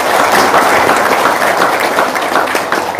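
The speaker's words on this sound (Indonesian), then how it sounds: "Tepuk tangan dulu dong." An audience applauds steadily through the whole stretch at an Indonesian Islamic talk show with two ustads, a dense, loud wash of clapping with no voices above it.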